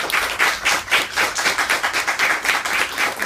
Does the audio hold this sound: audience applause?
yes